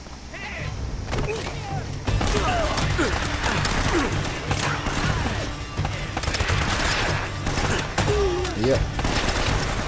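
Pistol gunfire in the Uncharted video game, Drake's Fortune, cracks in repeated shots amid dense, continuous game action noise, with voices talking over the mix.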